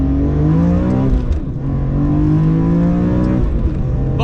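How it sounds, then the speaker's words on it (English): A BMW E46 M3 with a Vorsteiner setup drives on the road, its raspy exhaust droning loud and steady from inside the cabin as the engine note climbs and dips with throttle. "The E46 M3 is kind of known for its raspy exhaust note"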